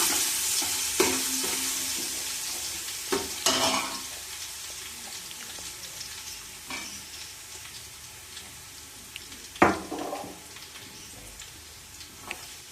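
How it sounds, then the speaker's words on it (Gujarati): Garlic frying in hot oil for a garlic sev snack, a quiet steady sizzle punctuated by several sharp clinks and scrapes of a spoon stirring the pan, no talking. "તેલ ગરમ થઈ ગયું છે. એમાં આપણે પેલા નાખી દેવાનું છે લસણ."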